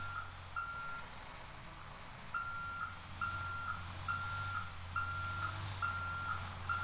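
Reversing beeps sound from a Busscar Vissta bus being backed into a stop in GTA V, a steady series of evenly spaced electronic tones over a low idling engine rumble.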